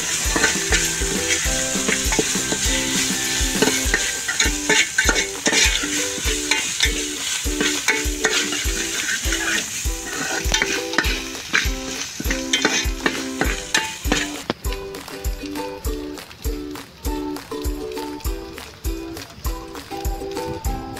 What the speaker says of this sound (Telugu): అల్లం పేస్ట్ వేసుకొని మనం కలుపుకోవాలండి